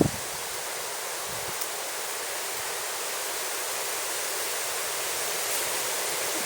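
Strong wind rushing through a forest near home while gathering yellow mushrooms, a dense, constant roar of broadband noise with steady intensity and no clear gusts, close and loud throughout.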